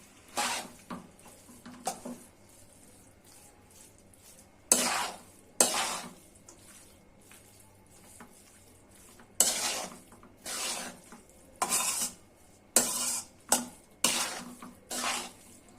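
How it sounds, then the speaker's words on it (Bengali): Homemade pasta with spice masala stirred in a pan, heard as intermittent bursts of scraping and clattering against the pan separated by quiet pauses, close by. "মশলাটা দিয়ে নেড়ে চেড়ে নেবেন।"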